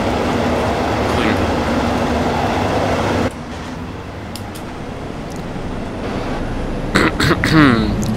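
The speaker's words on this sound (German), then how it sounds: "Was ist das jetzt für ein Geräusch? Alter, ist das laut. Ach, hier hinten, dieser Zug. Meine Güte, ist der laut." A passing train in the OMSI 2 bus simulator game roars as a loud, steady rumble that fills the whole clip, with someone talking over it.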